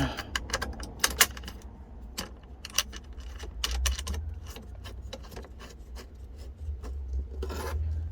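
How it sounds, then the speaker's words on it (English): A car shifter mount being bolted down by hand: clusters of small metallic ticks, taps and ratcheting clicks over a low rumbling background, with irregular bursts and no talking. "Go ahead and bolt this one down."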